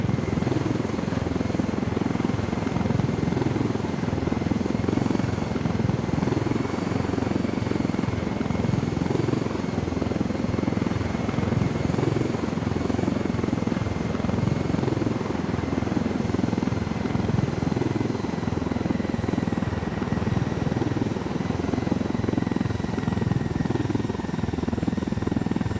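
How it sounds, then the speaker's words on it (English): Helicopter rotor in the video game Ghost Recon Wildlands, a steady loud chopping thrum with engine whine that holds unbroken for the whole stretch, close and continuous without talk. "I love when I get to loot a chopper."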